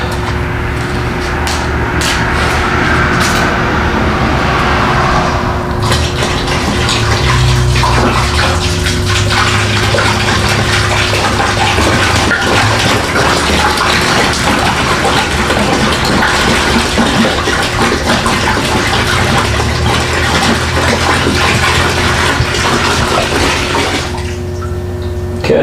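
Water and rust remover mix pour into a tank for treating the front frame of a Loadstar truck, a loud, sustained gushing and splashing that carries on for many seconds, with no talking.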